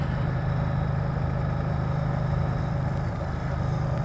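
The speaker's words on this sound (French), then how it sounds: "je crois que je vais croiser un gros tracteur" A big farm tractor drones past on a country road, its deep heavy engine rumble steady and loud throughout, mixed with rushing wind and the hum of a motorcycle, no voices.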